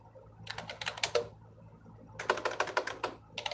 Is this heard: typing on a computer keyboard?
yes